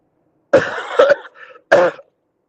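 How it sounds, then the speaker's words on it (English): Two or three harsh coughs close to the microphone, a short burst followed by a single cough after a brief pause, with silence around them. "y'all hear the cough"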